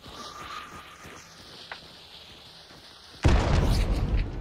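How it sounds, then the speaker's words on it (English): A grenade goes off in Hunt: Showdown after a few seconds of quiet ambience and faint footsteps, a sudden loud broadband blast with a rumbling tail. "Grenade in."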